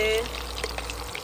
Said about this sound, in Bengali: এখানে সুন্দর করে ফ্রেঞ্চ ফ্রাই ভাজা হচ্ছে।